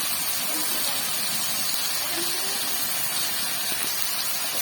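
Taro root (shola kochu) frying in a pan after salt and turmeric go in, giving a steady, even hiss and sizzle that holds the whole way through with no pauses.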